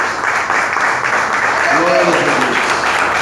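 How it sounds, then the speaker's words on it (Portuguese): A church congregation at a Portuguese-language sermon applauds, a broad wash of clapping with a voice rising over it midway. "Tome seu assento aplaudindo a Jesus, porque Ele é tremendo."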